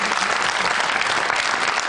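Dense, steady applause from a television talk show studio audience, loud and continuous throughout with no voices standing out.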